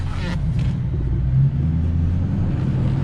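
A 2007 Chevrolet Silverado LT with the LBZ diesel engine crawls along in 4 low, a steady close low rumble of the engine and drivetrain with one brief swell partway through.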